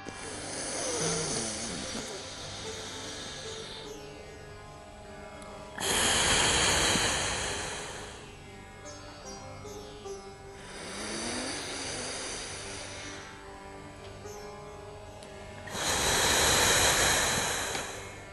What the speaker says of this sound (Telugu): ఎడమ ముక్కుతో గాలి తీసుకోండి.